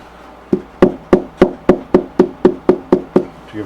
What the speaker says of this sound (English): and then you take your hammer